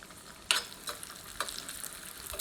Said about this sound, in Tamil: இப்போ நெய் காஞ்சிச்சுங்க முந்திரி பருப்பு திராட்சை வறுத்துக்கலாம்